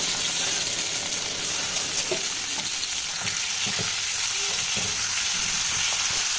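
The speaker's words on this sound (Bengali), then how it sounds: "তো আমি এর মধ্যে ভেজে আর কষিয়ে নেব" Rice and lentils fry in a pan for khichuri, a steady close sizzle with occasional scrapes and stirring knocks running throughout.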